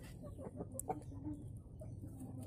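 Kampung chickens cluck faintly in a semi-intensive farm pen, soft scattered clucks over low steady background noise, with no talk.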